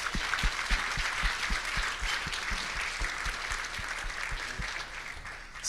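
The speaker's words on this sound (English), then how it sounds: "Give them a big round of applause." A conference audience applauds a panel, a steady wash of many hands at moderate distance, with individual claps popping out near the front and no talk on top.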